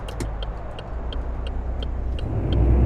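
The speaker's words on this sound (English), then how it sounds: "I'm afraid of how loud this truck's engine can be sometimes" A steady truck engine in Euro Truck Simulator 2 rumbles and drones continuously, with a rhythmic ticking over it and the rumble swelling slightly toward the end.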